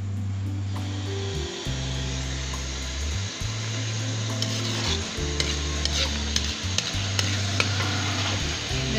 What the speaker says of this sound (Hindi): ये फ्राई कर रही हूँ